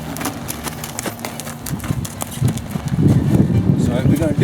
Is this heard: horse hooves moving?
yes